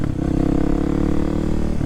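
A Kawasaki 300 supermoto motorcycle engine revs loud and close in a brief steady burst, its low throbbing exhaust note holding fairly even throughout.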